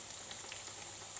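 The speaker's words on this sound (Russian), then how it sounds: "Жарятся они с одной стороны сначала до золотистого цвета" Chebureks, Russian dough turnovers, fry in a hot pan with oil, giving a steady, dense sizzle and crackle that fills the whole moment, close and even, with no voices.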